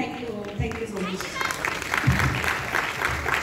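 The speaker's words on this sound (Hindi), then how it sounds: "जोरदार तालियां" Loud applause and clapping from an audience at a motivational speech event, a dense continuous wash of hand claps with voices mixed in.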